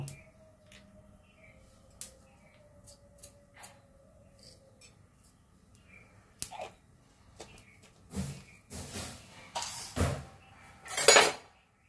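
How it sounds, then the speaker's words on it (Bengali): Cumin seeds dry-roasting on an empty tawa, stirred with a spatula: sparse light scrapes and ticks at first, then a run of louder metallic scraping strokes near the end. "আর অল্প জিরে খালি তাওয়াতে ভেজে নেব"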